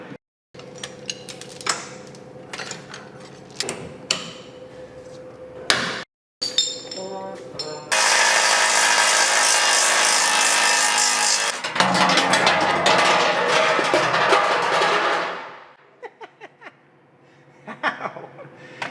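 A power tool runs while removing a bolt from a 2021 Ford Bronco First Edition Sasquatch, a loud, steady whirring burst lasting several seconds, with scattered metallic clinks and clatter before and after.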